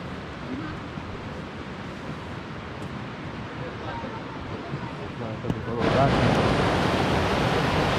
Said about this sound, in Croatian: Evo, približamo se velikom slapu